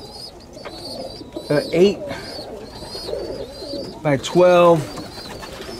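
Pigeons coo in a well-ventilated open loft in Florida, soft repeated coos near the microphone while two men converse.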